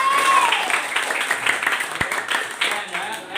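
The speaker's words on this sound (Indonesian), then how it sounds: "Oke, tepuk tangan untuk kita semua." A group at a teacher-training session applauds together: steady, moderately loud clapping that holds for a few seconds with faint voices mixed in.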